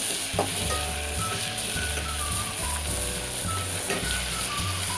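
Tomato and brinjal fry in a pan as a continuous loud sizzle, with stirring scrapes and small pops over it. No one talks.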